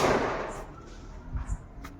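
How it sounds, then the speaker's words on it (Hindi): A loud Diwali firecracker bang at the start decays into a fading rumble and crackle, followed by a few faint pops. "एक पटाखा जलाए, मेरे को डर लग गया"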